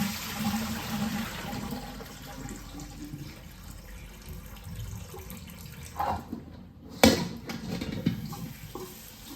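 Callaloo leaves are washed under running water, a steady tap stream splashing into a basin, with a few louder splashes and handling noises near the end.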